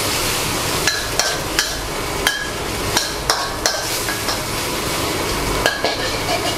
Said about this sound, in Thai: พอขิงส่งกลิ่นหอมเนี่ยเราก็จะตามด้วยขึ้นฉ่ายนะครับ